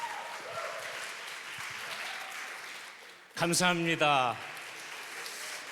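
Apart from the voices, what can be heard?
church congregation applauding to welcome a pastor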